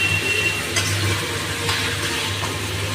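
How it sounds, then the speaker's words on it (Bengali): Water pours into a pan of chicken liver curry, giving a continuous rushing, hissing splash of moderate loudness with a faint sizzle beneath. "নাড়িয়ে নেওয়ার পরে আমি এটাকে একটু জল দিয়ে দেবো।"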